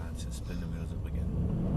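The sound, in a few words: car wheels spinning up, engine revving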